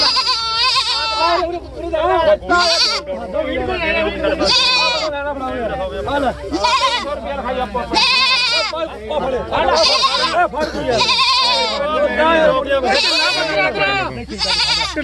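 Goats bleat repeatedly and loudly, one call after another, with a crowd of voices talking around them at a livestock market in Bargari.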